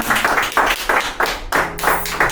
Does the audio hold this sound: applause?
yes